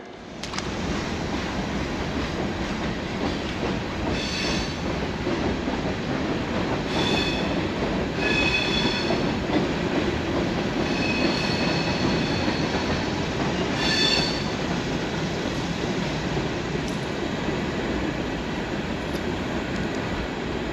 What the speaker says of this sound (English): We're actually under a train right now.